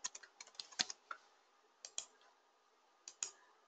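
A computer mouse clicks quietly in small clusters of sharp taps with short pauses between, close and faint, with no talk.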